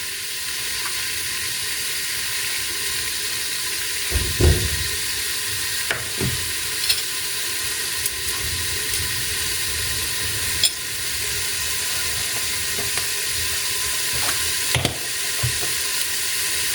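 Small chopped pieces of meat fry in butter in a pot, making a loud, continuous close-up sizzle and hiss, with a few brief knocks and stirring clatters scattered through.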